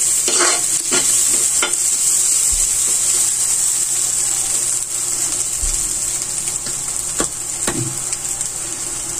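Sliced bitter gourd (ampalaya) is stir-fried in a pan, with a steady close sizzle throughout and occasional scrapes and clacks of the spatula, and no talk.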